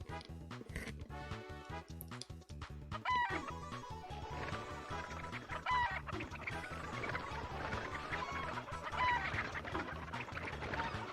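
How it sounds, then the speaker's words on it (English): Chickens cluck and squawk in the video game Breath of Fire 3, a busy, steady stream of bird calls mixed into dense game music and effects, with no talking. "And now the chickens are all escaping."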